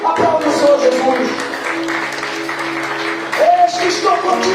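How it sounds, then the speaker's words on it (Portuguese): A church congregation claps for Jesus during worship, with continuous hand clapping blended under sustained music and a preacher's voice that swells again near the end. "Aplaude o Senhor Jesus."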